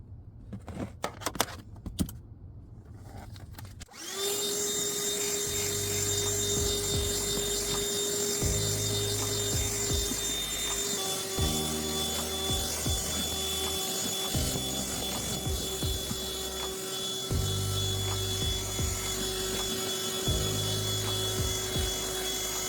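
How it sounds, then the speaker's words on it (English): A vacuum cleaner motor starts up after a few seconds of clattering and keeps roaring steadily and loudly, with a constant high whine, while cleaning a car. "So the vacuum just died."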